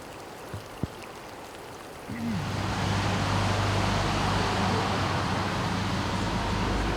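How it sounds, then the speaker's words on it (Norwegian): Heavy rain suddenly sets in during fly fishing outdoors, a loud, dense, steady hiss of drops beginning about two seconds in after near quiet, with a low rumble underneath. "det blir så mye regn"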